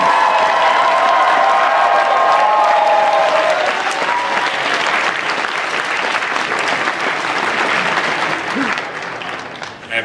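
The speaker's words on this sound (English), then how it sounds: "one final round of applause for the guests of Anime Detour" Convention audience at Anime Detour 2014 giving a final round of applause for the event's guests: dense, sustained clapping from a large crowd, loud and steady, fading near the end with faint cheering mixed in.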